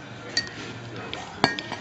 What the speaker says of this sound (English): I'm going to mix all that up.